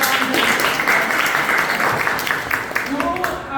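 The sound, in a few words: audience applause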